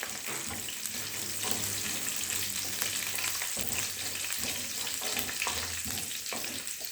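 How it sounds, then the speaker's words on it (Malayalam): Ingredients for an egg curry, including curry leaves, sizzle and fry in a pan while being stirred, giving a steady crackling hiss with repeated scraping strokes of the spoon, close and clear. "എല്ലാം കൂടി നമുക്ക് ഇളക്കി യോജിപ്പിച്ച് കൊടുക്കാം"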